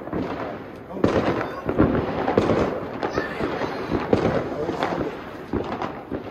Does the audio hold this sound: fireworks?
yes